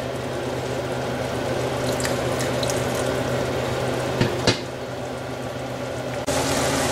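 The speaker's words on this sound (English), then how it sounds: "Now I'm going to add some more water here." Water is poured into a pan of simmering spicy egg potato gravy with smashed tomatoes, a steady bubbling, splashing wash running throughout, with a couple of brief clinks near the end.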